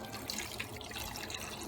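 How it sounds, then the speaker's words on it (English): Water poured into a container of raw, unrefined shea butter being cleaned, a steady close splashing pour running continuously without pause. "Pour water into the shea butter"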